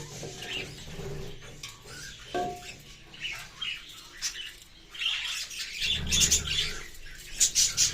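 Pigeons in a breeding colony with clay nesting pots, scattered coos, chirps and wing-flutter rustles at close range, with denser calling toward the end.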